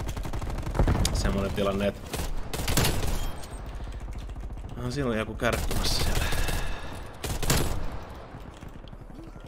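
Gunfire fired from the hip in Black Ops Cold War on the Nuketown 84 map: rapid bursts of shots and scattered single cracks, loud and close, heard under continuous talking.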